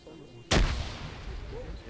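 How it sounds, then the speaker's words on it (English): A grenade explodes in a PvP military game match, one sudden loud blast with a deep boom that rolls on into a long fading rumble. "That's a grenade."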